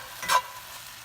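Wilted spinach gets stirred into a hot frying pan, giving one brief close scrape and sizzle burst followed by a quiet low hiss and a second short stir at the end.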